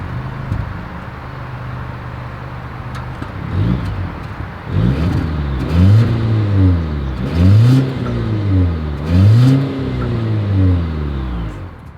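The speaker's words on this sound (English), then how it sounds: "As always, here is that exhaust clip." A 2023 Volvo V90 Cross Country engine idles, then its exhaust is revved three or four times in quick rising and falling bursts, close and loud.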